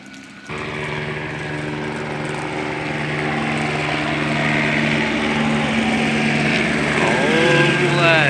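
A military police helicopter flies overhead above a neighbourhood in Brazil, its engine and rotor starting abruptly and swelling into a loud, steady droning whine that grows nearer, with faint voices underneath.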